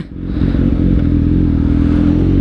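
A motorcycle with a slipper clutch being ridden, its engine a loud, close, steady drone that quickly rises and holds throughout, with no talking.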